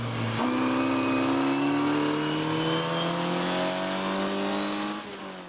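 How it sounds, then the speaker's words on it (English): A Formula Ford race car at Snetterton pulls in fourth gear but isn't revving enough, sitting low out of the power band; its loud, steady engine drone climbs slowly in pitch, close and continuous, with no talk. "I'm pulling fourth gear again and the car's just not revving enough"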